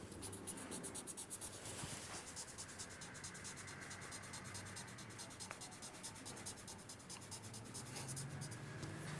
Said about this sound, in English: Take your secret fluid pen and write over.